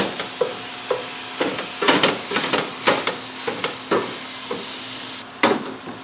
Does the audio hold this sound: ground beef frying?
yes